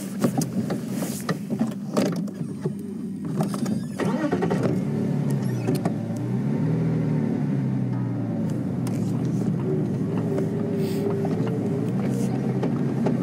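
Safari vehicle rolling slowly along a dirt road, a low engine rumble with rattles and bumps, steady and close, with sparse faint background sounds.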